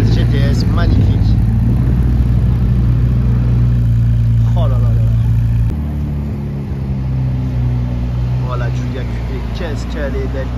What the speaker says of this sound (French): arrive au volant de la 296 GTS, magnifique